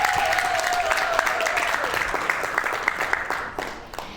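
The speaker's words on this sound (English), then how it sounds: "I want each and every one of you to clap for yourself." Audience at a graduation speech applauds steadily, a dense continuous wash of clapping that fades slightly toward the end, with a faint tone and voices mixed underneath.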